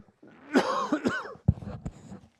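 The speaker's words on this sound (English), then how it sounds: "so when I need to cough, I can mute myself" A few harsh throat-clearing coughs up close, one sharp burst followed by a rougher hack.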